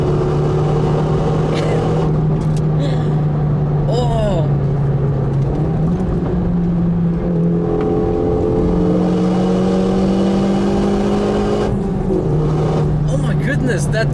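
Renault Mégane RS 275 Trophy engine accelerating, a loud in-cabin drone of induction noise that climbs in pitch through the gears, with brief shift dips, while people talk over it.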